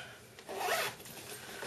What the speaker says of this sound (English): Then in the middle, the zipper part